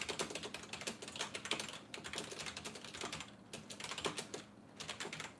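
Rapid, steady typing on a computer keyboard, close and clear, with dense clacking keystrokes and a few brief pauses.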